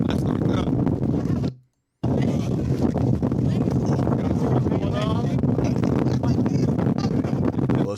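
Gusty wind buffets a microphone outdoors in Chicago, a steady loud rumbling roar with a brief dropout early on, while people talk over it.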